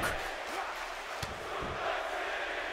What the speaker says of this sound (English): A 50-50 crowd here in Brooklyn. Fans of The Rock, fans of Brock.